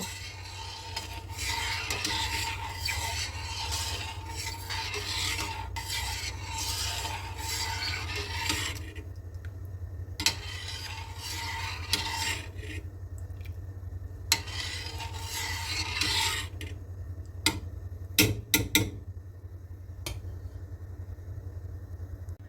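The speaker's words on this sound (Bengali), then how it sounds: "পায়েসটাকে এভাবে ঘন করে বারে বারে নেড়ে নেড়ে রান্না করে নিচ্ছি" A spoon scrapes and stirs thickening payesh, rice pudding cooking in milk in a pot, in repeated rasping strokes over a low steady burner hum, with a few sharp clinks near the end.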